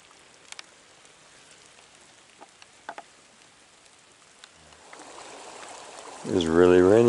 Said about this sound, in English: It's really raining a lot now.